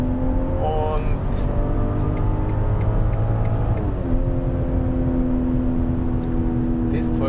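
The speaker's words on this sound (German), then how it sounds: "Wenn du das Gas wegnimmst, was dieser Soundgenerator da macht" BMW 540i Touring (2022) engine with its sound generator as the throttle lifts off: a loud, steady engine drone with shifting tones that drop near the end, with a voice talking over it.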